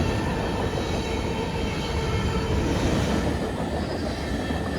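A long CSX freight train passes close on the Henderson subdivision, a loud, dense roar of rolling wheels and rail noise with thin squealing tones running through it.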